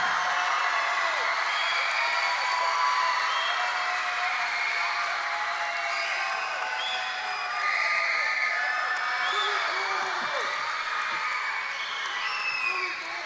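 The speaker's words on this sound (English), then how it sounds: "I would like all of you guys to please give him a big round of applause." A crowd at a community crusade claps steadily for a speaker, a continuous, fairly distant wash of applause with a few whoops and cheers mixed into the noise.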